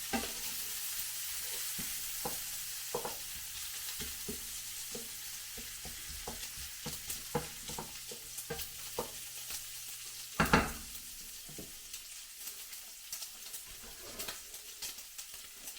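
Bacon sizzles in a pan with a soft steady crackle and scattered pops, joined by a low hum that stops partway through after a brief louder clatter; the sizzle continues faintly afterward.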